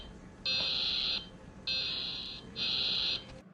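A high-pitched electronic alarm tone from a Czech emergency alert siren sounds in three long steady blasts separated by short gaps, loud and alone.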